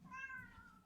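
A house cat gives a single clear, fairly close meow that rises and then trails downward for under a second.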